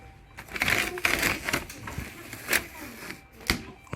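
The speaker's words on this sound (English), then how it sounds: "Peel back the plastic." A plastic moisture sheet is peeled back from inside a car door panel, giving off crinkling, crackling and tearing sounds in uneven bursts. The handling is close by and there are a few sharper snaps.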